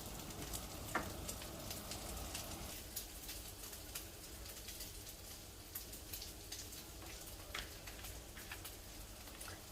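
Bacon for carbonara fries in a pan with a faint, steady sizzling hiss and scattered small pops and crackles, low in level and without voices.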